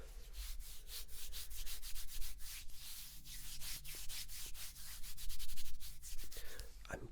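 Close, soft rubbing of hands working cream into forearm skin, a continuous dry swishing with rhythmic strokes that swell and ease, intimate and quiet ASMR texture with no talking.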